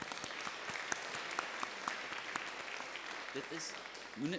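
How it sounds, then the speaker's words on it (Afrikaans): During a Pentecost church service, a congregation claps in appreciation: a soft, distant wash of many hands, faint and steady, with a few voices murmuring near the end. "Ek dink dit is buite orde dat ons dalk vir hom hande klap"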